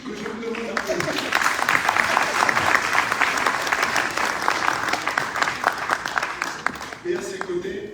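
Audience applause fills a hall during an international Africa day event at UNESCO House, steady and dense throughout, with a voice speaking briefly at the start and again near the end.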